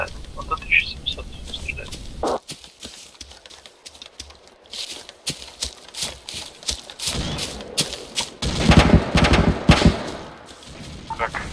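An airsoft machine gun fires bursts of suppressive fire during a large outdoor airsoft game, with rapid clattering shots that come and go and grow denser toward the end, while players talk in between.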